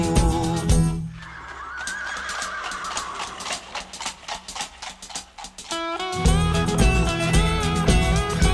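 A horse whinny rises over the band in a Tagalog OPM song about a reckless horse-cart driver, drawn out across the middle of the track amid guitar and rhythm, with the full music returning loudly afterward.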